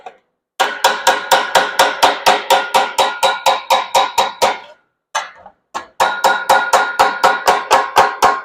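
Hammer and dolly strike sheet metal while stretching a small reverse curve, in quick, evenly spaced ringing metallic blows: a long run, a short pause, then another steady run, close and loud.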